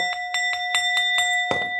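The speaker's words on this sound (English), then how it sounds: "So let me hit the bell." A small bell struck repeatedly, about seven bright ringing hits spaced evenly around a quarter second apart, each tone lingering while the next arrives, with the last strike louder and fuller, close and clear with no talking.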